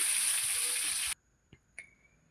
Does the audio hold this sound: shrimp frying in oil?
yes